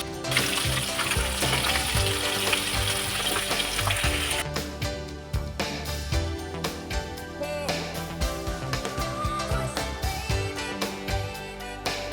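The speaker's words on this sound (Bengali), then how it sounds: "মাছটা লাল করে ভাজা করে ভাজা করে নেব" Fish sizzles loudly in a pan of hot oil in a home kitchen. A dense, continuous frying hiss runs for several seconds, then gives way to clattering, popping spatters that keep on to the end.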